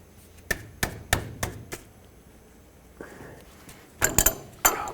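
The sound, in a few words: loosening tie rod sleeve nut with 27mm wrench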